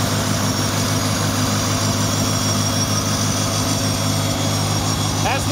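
A 1972 IH Farmall Cub tractor engine runs steadily at idle, a loud, even low throb with regular firing pulses filling the whole stretch, close by and alone.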